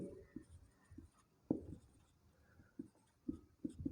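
A pen writes on paper during a math lesson, faint close scratches and taps in short irregular strokes with quiet pauses between them.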